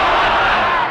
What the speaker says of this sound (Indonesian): Jangan tepuk tangan di masjid.